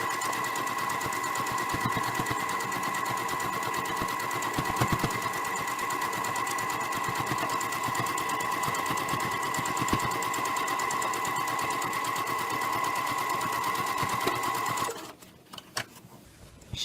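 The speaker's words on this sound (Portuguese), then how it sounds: "E daí basta abaixar a agulha e continuar a costura devagar" A sewing machine runs steadily for a long stretch while straight-line quilting a quilt at slow speed, a continuous close mechanical hum and whir that stops abruptly near the end, followed by brief rustling.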